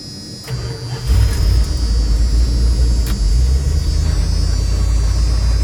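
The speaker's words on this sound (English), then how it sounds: "So we're going to go ahead and start the truck." A Dodge D150 pickup engine cranks and fires, then settles into a steady, loud, rumbling idle that carries on without pause, close up and with nobody speaking.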